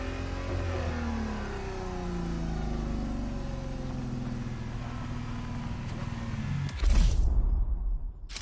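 A Ferrari GTO in The Crew Motorfest revs hard, the engine note climbing through several upshifts, loud and continuous, then cutting off abruptly into a brief burst of noise at the end.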